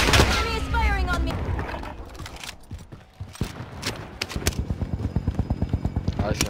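Enemy gunfire in the video game Warzone, from an MP40 loadout match, plays as rapid repeated shots that build into a steady automatic burst toward the end, mixed with game sounds and a player talking over it.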